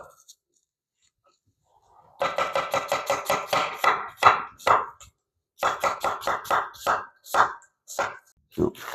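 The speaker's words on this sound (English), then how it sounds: "then we're going to cut these in strips, and these strips are referred to as julienne" A knife cuts halved onions into julienne strips on a board, giving fast, crisp, evenly spaced chops in two bursts after a quiet start, close and clear with no talk.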